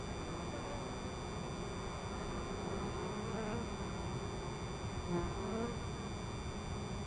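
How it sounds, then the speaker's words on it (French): A swarm of honeybees buzzes around a cut flower during an attempt to collect a bee package, making a continuous, faint, even hum with occasional louder passes of individual bees close by. "Les abeilles sont autour de la fleur."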